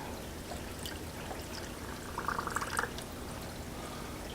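Water is poured into the side filter chamber of a Fluval Edge aquarium, a soft brief trickle rising faintly over steady background hiss about halfway through.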